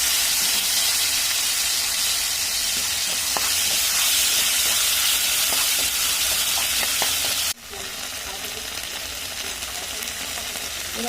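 Ginger-cumin paste and chili paste sizzle and hiss in hot oil with dry red chili, cumin and bay leaf, a steady loud frying crackle with stirring clicks, then a sudden drop to a quieter sizzle partway through.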